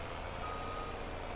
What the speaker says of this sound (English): So we'll just move that truck out of the way